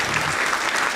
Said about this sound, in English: let's give Catalina an applause